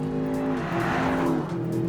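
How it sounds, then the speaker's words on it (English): A 2025 Range Rover Sport SV's V8 engine in its most extreme SV mode, a loud steady engine drone with shifting pitch as revs rise and settle, heard from inside the car. "You can hear the car, that V8."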